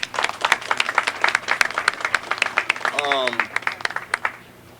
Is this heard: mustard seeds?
no